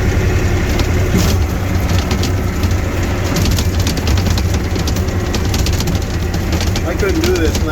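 A snowplow pushes snow down a driveway, a loud, continuous rumbling scrape with engine drone that stays close and steady throughout, with no talking.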